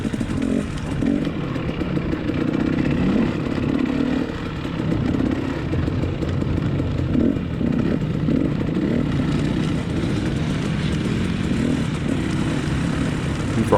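Dirt bike engine buzzes and revs continuously while riding over jagged, loose marble-like rocks during a race, with steady clatter and fluctuating throttle.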